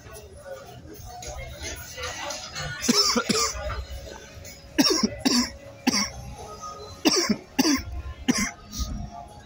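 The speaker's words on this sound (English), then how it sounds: "fucking cough" Several sharp, harsh coughs come in bursts close to the mic, with some voices and street noise in the background, in Corralejo old town, Fuerteventura.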